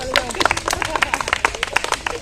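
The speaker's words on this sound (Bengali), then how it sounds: "দর্শক বৃন্দ যারা যারা আছে সবাই একটা হাততালি দাও।" A live audience claps for a contestant in a target challenge, with scattered, uneven hand claps rising and falling close by while a voice talks over them.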